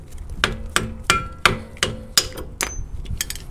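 Sharp metallic hammer taps knock a rear brake pad part loose on a Chrysler 200, about eight distinct close strikes in a steady uneven rhythm with ringing overtones.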